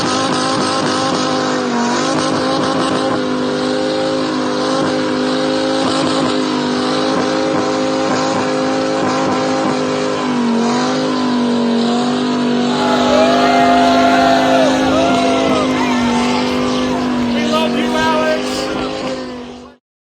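A car's engine revs hard and steadily at full volume in a Top Gear studio setting, with the pitch climbing and holding as the car performs a stand-still burnout, alone without talk.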